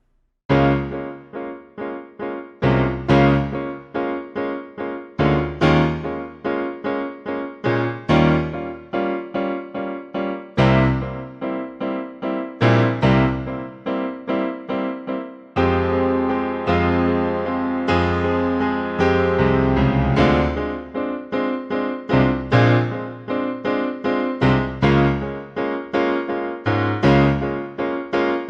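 Solo piano played slowly and steadily, chords and single notes ringing out with sustain, loud and close with no voices.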